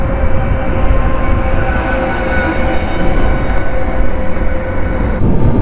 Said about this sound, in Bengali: এই অবন সেতুর ওপর থেকে দেখবো অন্ধকারের বুক চিরে কেমন একটা ট্রেন আসছে।